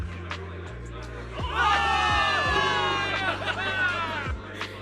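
A crowd of soldiers cheers a victory in Zenless Zone Zero, a swelling wave of whoops and shouts that rises after a moment and carries on loudly over game music.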